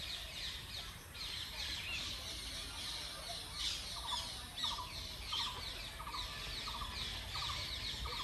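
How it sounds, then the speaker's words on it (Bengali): Macaws with yellow bodies and blue wings, perched in a deer park, give a run of short harsh squawks in a regular series, moderately distant over a steady outdoor hiss and background noise. "দুটো ম্যাকাও বসে আছে বডিটা ইয়েলো আর ব্লু হচ্ছে উইংগুলো"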